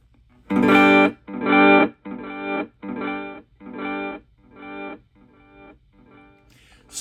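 A chord is strummed repeatedly through an M-VAVE Elemental pedal set to reverb, roughly eight separate strums in even succession, each ringing out with a washed tail before the next, later ones growing softer.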